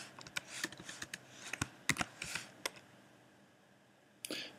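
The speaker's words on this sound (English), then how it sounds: "We start off by doing this by typing their surname in." Someone types a surname on a computer keyboard while entering a new patient record, a quick run of fairly loud close key clicks in uneven bursts, then a pause and a final short cluster of taps.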